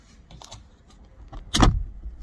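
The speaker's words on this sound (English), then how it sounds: "We're going to be putting the top down" The convertible top of a Mk3 VW Golf Cabrio is handled up close: a few light clicks and rattles, then a sharp louder clunk of the latch or frame near the end, with no talking.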